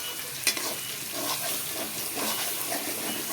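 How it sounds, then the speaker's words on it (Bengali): Cauliflower and potatoes are stir-fried with spices in a pan, giving a continuous close sizzle with scraping stirs and a sharp utensil clink near the start. "মশলা কষানোর পর কপি আলু ঢেলে দেওয়া হয়েছে এখন কপি আলুগুলোকে মশলার সাথে কষিয়ে নেওয়া হবে"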